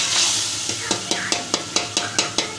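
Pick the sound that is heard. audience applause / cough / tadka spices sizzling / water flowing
tadka spices sizzling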